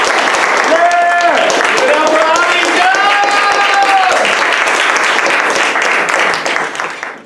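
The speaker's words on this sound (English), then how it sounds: "Clap it up for them like you know." Loud, sustained audience applause and clapping at a live arts and creative writing event, dense and continuous, with voices calling out and whooping over it before fading at the end.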